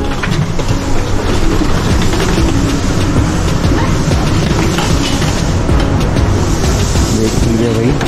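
Loud, steady rumble and rattle from inside the airport train at Singapore Changi Airport as it runs toward Terminal 3, a continuous roar with faint rhythmic clatter that fills the whole stretch.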